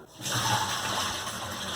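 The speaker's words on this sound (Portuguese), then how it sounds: "Nosso feijão ficou de molho por 12 horas e agora eu vou escorrer essa água." Soaking water from beans left in water for 12 hours being poured off and drained, a continuous close gush of splashing water running without a break.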